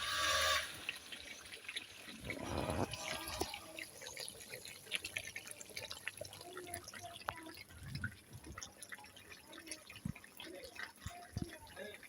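Water pours into a pot of meat and potatoes that have been sautéing, a faint running trickle with light splashes and drips, soft kitchen sounds around it.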